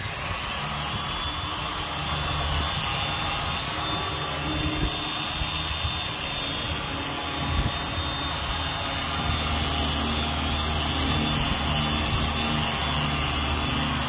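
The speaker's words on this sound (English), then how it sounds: "Had to start the generator." A portable generator runs steadily nearby during boat gelcoat restoration work, a constant droning engine hum with a whining tone that holds at even loudness for the whole stretch, with no talking.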